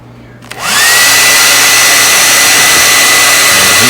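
A heat gun switches on with a click and then blows a loud, steady roar while heating fuel line tubing close by.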